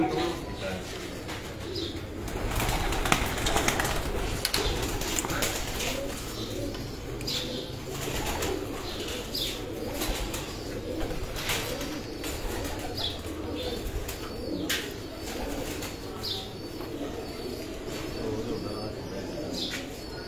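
Pigeons coo softly and repeatedly, with scattered bird chirps and a faint murmur of voices in the background.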